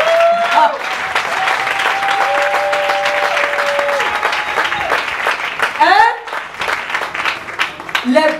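A church congregation at a Sunday service breaks into loud, sustained applause to acclaim the Lord, with whoops and a sung or shouted line riding over the clapping.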